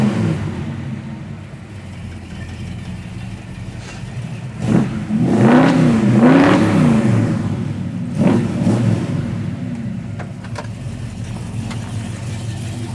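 A 1967 Chevrolet Chevelle SS with a Borla dual exhaust rumbles at idle, then gives two sharp revs that rise and fall, the second shorter, before settling back to a deep burble.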